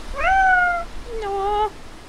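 A cat meows twice in the video game We Harvest Shadows, two drawn-out, clear calls close up, alone over a quiet background; no purring comes through.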